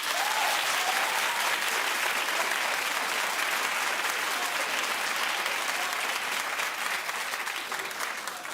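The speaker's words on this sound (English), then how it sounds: "clap if you don't think a 58-year-old woman needs to be in the club." A studio audience on a daytime talk show applauds in a steady, dense burst that continues throughout, loud and close, and no voices come through.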